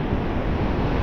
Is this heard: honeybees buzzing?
no